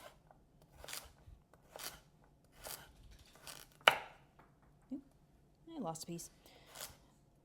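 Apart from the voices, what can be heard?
knife dicing carrot on cutting board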